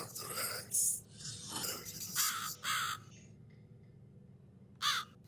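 Several harsh, rasping crow caws from the horror adventure game The Cat Lady, a cluster of loud calls early on, then a pause and one final caw near the end, with no speech.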